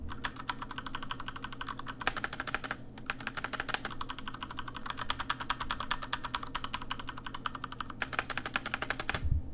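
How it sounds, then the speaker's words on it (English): Rapid, steady typing on a full-aluminum mechanical keyboard with crisp clicky keystrokes, close and continuous, with brief pauses and no talking. "Let me give you all a typing test real quick."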